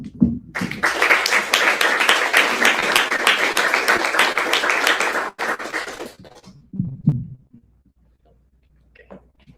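An audience at a scholarship awards event breaks into loud, dense applause for about six seconds, then it stops abruptly, leaving a few scattered claps and quiet room sound.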